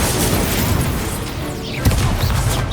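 A booming Confringo fire-spell blast from Hogwarts Legacy rumbles under dense game sound, with a sharper impact near the end of the short burst.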